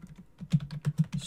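Quick run of keystrokes on a computer keyboard while a network switch command is entered, a steady close series of light clicks with no talking.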